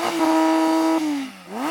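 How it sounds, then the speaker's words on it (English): A Porsche GT car engine revs hard, holding a steady high note before the pitch drops away and then climbs again, loud and close with no talk. "Nick, can you rev up your car?"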